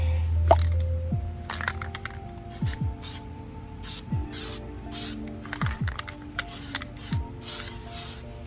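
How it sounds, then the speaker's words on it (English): Short hissing bursts from an aerosol can of anti-seize repeat in quick succession, close to the microphone, sprayed on a 2014 Ford F-series front hub during a brake job, over a faint background hum. "spray a good coat of anti-seize"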